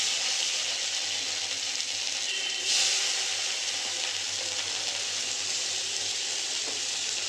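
Ginger, garlic and onion paste with chopped tomato fry in a kadai after fish has been fried in it, giving a steady close hiss. A brief louder burst comes early, and no voices are heard.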